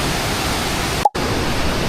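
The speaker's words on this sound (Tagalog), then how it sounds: "It's raining so hard now." Heavy rain pours down in Taiwan as a loud, dense, steady roar of noise, cut by one brief drop-out midway, with no talking.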